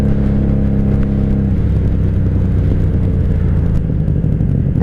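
A 1997 Honda Magna 750 (VF750C) motorcycle engine runs close by, a loud, steady, low rumbling idle that rises into a rougher, revving drone partway through.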